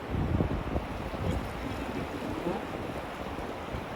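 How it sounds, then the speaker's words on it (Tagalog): Strong sea water rushes past a fishing boat in a constant turbulent roar, close and fairly loud, with wind buffeting the microphone and no speech. "Ayan o, lakas ng rumaraga sa yung tubig o."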